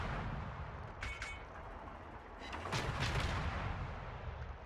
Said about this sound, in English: Now I'm putting torpedoes out because I'm expecting he's thrown in reverse.